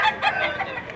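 Chickens, including roosters, cluck and squawk in short repeated bursts, fairly close, over a quiet background, at a poultry sale in Lipa City, Batangas.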